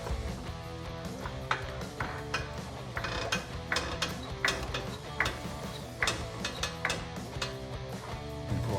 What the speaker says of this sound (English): Now it's time to bring our vehicle to the ground. Just jack it up on the frame.